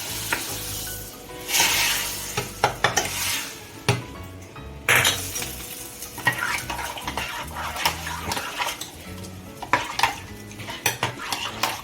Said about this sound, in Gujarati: હવે આ વઘાર રેડી થઈ ગયું છે, એ આપણે આમાં એડ કરી કાઢશું.